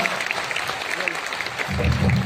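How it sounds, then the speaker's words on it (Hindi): Applause from a crowd at a meetup, a steady wash of clapping that swells louder toward the end. "प्लीज तालियां बजाइए जितना एवरीवन, जोरदार तालियां हो जाए।"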